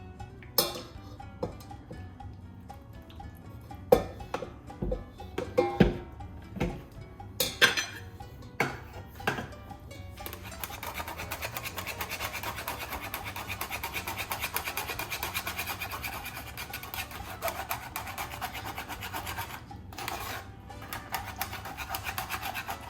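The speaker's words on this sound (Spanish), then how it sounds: "Y ahora la paso por esta coladera, trato que sea un poco fina." Guava pulp for homemade guava jam rubbed and pushed through a fine kitchen strainer, giving scraping, rasping strokes with a few sharp metallic knocks early on, then a steady continuous rubbing close by with no talk.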